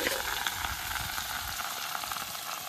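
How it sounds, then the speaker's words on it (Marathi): Masala fries in a pan at an outdoor cookout by a mango grove, a continuous bright sizzle with soft low bubbling and occasional stirring scrapes. "आता यात फ्राय करत आहे"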